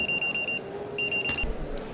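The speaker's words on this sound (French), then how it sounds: "il n'y a toujours pas de réaction, et l'alarme va se déclencher pour alerter les parents" Electronic alarm from a Naos baby bed breathing monitor demonstrated at a Babycool 2015 trade fair, sounding as repeated high-pitched beeping pulses that pause and resume, loud over a murmur of hall noise.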